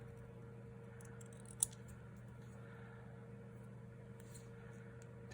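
Faint, soft snipping of scissors trimming paper for a Christmas craft bag, barely above a steady low hum of room noise, with one sharp click partway through and no talking.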